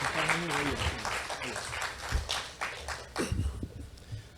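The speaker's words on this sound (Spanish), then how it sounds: "recibamos con un fuerte aplauso" Applause from an audience at a public conference on electoral consultations, a steady patter of clapping with a voice speaking briefly over it near the start.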